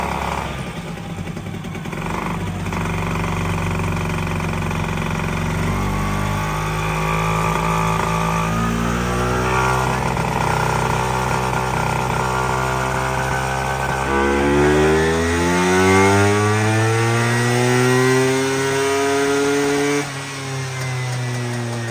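Vespa scooter with a standard sprint gear setup is kicked into life and revved, the engine note rising and falling in repeated swells before a final strong climb, loud and close.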